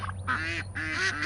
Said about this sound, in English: these ducks are just loud